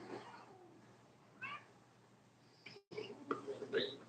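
A cat meows a few times, short and fairly faint, amid background chatter and noise, with people talking nearby.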